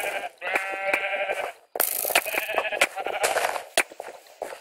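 Sheep in a video game bleat repeatedly and loudly, several wavering calls overlapping in quick succession with short gaps, mixed with sharp clicks and game noises.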